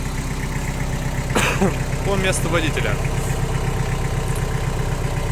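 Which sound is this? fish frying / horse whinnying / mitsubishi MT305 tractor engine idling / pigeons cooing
mitsubishi MT305 tractor engine idling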